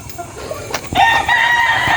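Brahma chickens cluck softly nearby, then a rooster breaks into a loud, sustained crow that carries over the flock.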